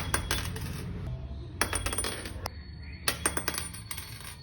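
Gold jewelry of 21–22 karat, bought in Dubai, dropped onto a hard surface: a few bright metallic clinks and short rattling bounces, close and fairly quiet, with brief pauses between drops and no talking.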